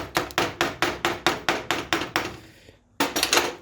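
Repeated metal hammer strikes on a transformer during a teardown, about a dozen sharp, evenly spaced blows at close range, a short pause, then another quick burst of hits.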